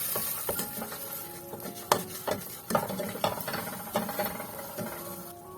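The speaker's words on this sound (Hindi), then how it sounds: "और अब इसकी अच्छे से मैं भुनाई कर लूंगी।" Semolina roasting in ghee with cardamom, stirred with a spoon in a pan: irregular scraping and soft sizzling patter with sharp clicks of the spoon against the pan, close and steady with no talk.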